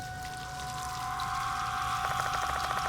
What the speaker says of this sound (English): Guess that explains the sound of running water